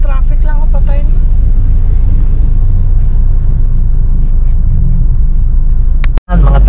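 Street traffic rumbles steadily in Balibago, Angeles, Pampanga, with car and bus engine noise underneath people talking, and a brief dropout near the end.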